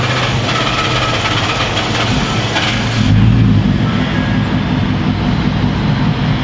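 A broken-down truck's engine cranks for a few seconds, then catches and settles into a steady, loud idle, heard up close with no talking.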